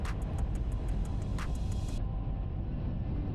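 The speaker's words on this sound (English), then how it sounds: "our train is plunged into darkness as it powers through one of the many tunnels on the Tohoku Shinkansen" A Tohoku Shinkansen train powering through a tunnel, heard as a steady, loud low rumble with broadband roar and a few brief higher clatters early on, continuous with no voices.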